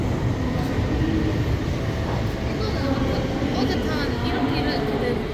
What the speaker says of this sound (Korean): 9시 그 4분에 열차가 왔습니다